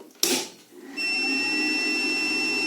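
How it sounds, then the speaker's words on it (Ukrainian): A PowMr 24 V, 220 V, 2000 W inverter switches over, with a short thump followed by a steady high electronic beep tone and the hum of its cooling fan spinning up and running continuously. "Чуємо зразу звуковий сигнал від інвертора, чуємо, вентилятор запрацював."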